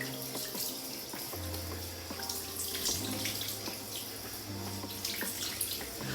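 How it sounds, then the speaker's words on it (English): Tap water runs steadily from a sink faucet over a thin skin hair system to wet it down, a continuous close rushing wash with small clatters, no talk. "place it underneath the tap of your sink, and we are going to wet down our system"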